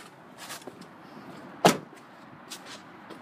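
A rear seat in a Ford Explorer folds down, with faint rustling, one sharp latch thunk in the middle and a few lighter clicks around it, close and quiet.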